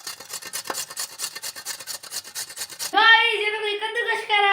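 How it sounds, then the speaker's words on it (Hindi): A kitchen grater rasps in quick, even strokes for about three seconds, close and distinct. A sustained, tonal voice-like sound then follows and runs to the end. "गाइस ये तो कोई कद्दूकस कर रहा था"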